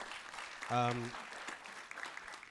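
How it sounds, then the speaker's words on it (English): An audience applauds at the opening ceremony of the YAIS III conference, a steady wash of clapping throughout, briefly joined by a short voiced tone near the start. "please clap for that"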